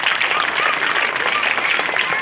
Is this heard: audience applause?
yes